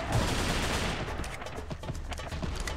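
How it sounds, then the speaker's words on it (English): Assault rifle fire in the modded shooter game Serious Sam 3: BFE: loud, dense, sustained bursts of shots fill the whole stretch, with no talking over it. "All right, let's switch to my assault rifle right now."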